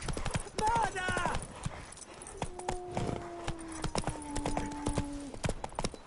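A horse gallops with loud, quick hoofbeats and lets out a whinny in The Witcher, while people's voices and tonal game sounds carry on over the running hooves.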